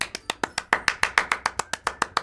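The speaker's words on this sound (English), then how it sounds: "I'm the first to start applauding." Applause from the video game Doki Doki Literature Club: a short run of about fourteen crisp, evenly spaced claps, close and clear with no voices.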